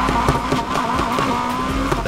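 A Volkswagen Golf GTI tuned to max in the racing game NFS Heat accelerates hard with a steady, loud engine roar and occasional tire squeal, heard on its own without talk.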